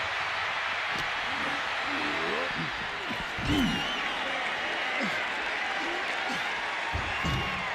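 Arena crowd noise from a WWE 2K25 Extreme Rules match between Randy Orton and Roman Reigns, a dense continuous roar of cheering and applause with a commentator talking over it throughout.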